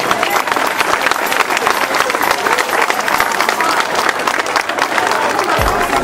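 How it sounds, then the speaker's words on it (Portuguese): Loud, dense applause fills a hall at a school day opening ceremony for the outgoing school director, an unbroken roar of many hands clapping together at full strength from start to finish. "a professora Elizabeth Leite, a quem eu peço uma grande salva de palmas"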